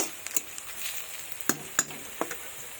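A paste of dry red chilli, ginger, cumin and garlic fries with softened onions in a pan for a fish and potato curry, a steady close sizzle broken by sharp clicks of stirring, with no voices.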